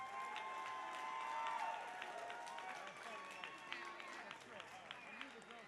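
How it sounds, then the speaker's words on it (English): Arena crowd applause and cheering rise after a hard-fought three-round women's MMA bout, a steady broad roar with scattered claps and shouts, swelling early and then holding under an announcer's voice. "Applause for what is quite possibly fight of the night."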